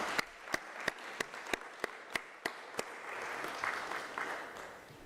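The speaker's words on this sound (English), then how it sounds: "Another round of applause." Conference audience applause at a higher-education teaching and learning event: a single person claps sharply in slow, regular beats up front, then a wider, softer round of crowd clapping swells behind it.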